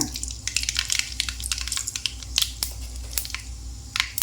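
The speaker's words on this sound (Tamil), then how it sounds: "எண்ணெய் காஞ்சிருச்சு இப்போ கடுகு போட்டுக்கலாங்க" Mustard seeds sputter and pop in hot oil in a pan, a dense run of sharp crackles and tiny bursts over a low steady sizzle, close and fairly loud throughout.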